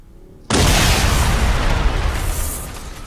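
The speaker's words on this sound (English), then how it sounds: "Explosion." A loud explosion from a Red vs Blue episode erupts suddenly after a quiet moment, a sustained broadband blast with a deep rumble that rolls on for a couple of seconds before slowly fading.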